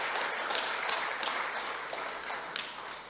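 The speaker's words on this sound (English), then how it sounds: "can you clap for this steering committee" Closing-ceremony audience clapping for a steering committee, a steady dense wash of applause at moderate distance lasting the whole stretch.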